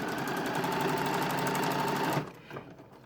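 A sewing machine runs in a fast, steady whir while stitching across the ears of a fabric bunny hood, close and clear, then stops abruptly, leaving a couple of soft handling knocks.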